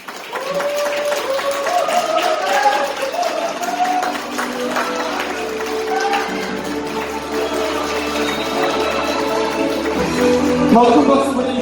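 Wedding guests applaud steadily as the groom walks in, a dense wash of clapping layered with music and crowd murmur that swells slightly near the end.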